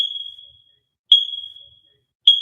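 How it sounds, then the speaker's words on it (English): A smoke detector gives three short, high electronic chirps at steady intervals, each trailing off in the quiet. "she got that smoke detector"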